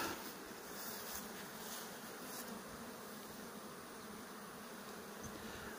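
Honeybees buzz at their hives on an early summer morning in a sunflower field, a dense, continuous swarm drone that is soft and even with no voices.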